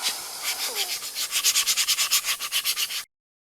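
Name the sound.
sanding a surface to make it porous before coating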